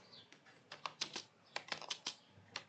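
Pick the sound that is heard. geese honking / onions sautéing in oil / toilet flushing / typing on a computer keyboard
typing on a computer keyboard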